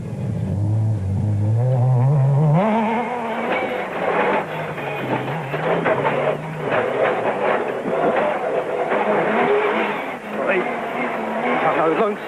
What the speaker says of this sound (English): The Nissan had the edge over the Ford in the horsepower stakes, and there was nothing that Woolridge